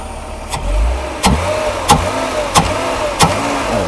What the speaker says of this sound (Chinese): 好，大哥来拉动油门